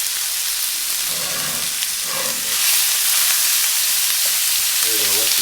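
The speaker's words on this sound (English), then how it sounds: "You can probably hear it sizzling." Apple smoked bacon and diced onion fry in a hot pan with a steady, close broadband sizzle that grows louder partway through, alongside a few faint clinks.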